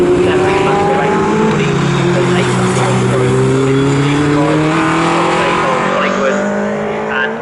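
Racing cars, among them a Caterham, scream past at Snetterton in a loud, continuous roar of several engines with rising and falling pitch as they change gear, under excited commentary.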